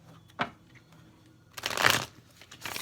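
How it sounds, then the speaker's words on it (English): Tarot deck being shuffled: a short papery flick near the start, then a denser burst of riffling cards a bit later, close and fairly quiet with no talk. "Just giving your deck a quick shuffle here."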